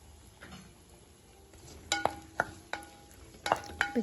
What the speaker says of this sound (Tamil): இப்போ நம்ம நறுக்கி வச்சுருக்க சின்ன வெங்காயத்தையும் போட்டுடலாம்.